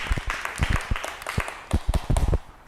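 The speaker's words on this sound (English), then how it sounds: "A big hand clap." An audience at a dance and fitness workshop claps by hand, uneven bursts of sharp claps that thicken toward the end, fairly close with a little background voice.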